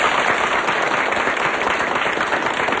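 Dense, steady applause from an audience at a health lecture on weight loss, a continuous crackle of many hands clapping throughout with no voices over it.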